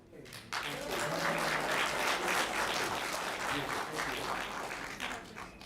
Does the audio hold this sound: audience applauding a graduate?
yes